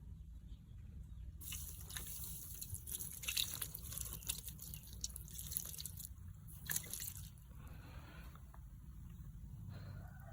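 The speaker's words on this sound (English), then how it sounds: "Now let's try pouring water." Water poured onto a cured sugar-and-cement surface, a steady wet trickle with scattered drips and splashes running throughout, moderately close with low background rumble and no talk.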